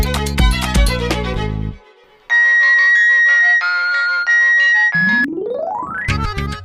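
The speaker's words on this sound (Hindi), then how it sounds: "फोन लगा।" A phone ringtone plays loud and alone as a call is placed, a steady repeating electronic melody in two bursts, after a burst of music and before a rising tone.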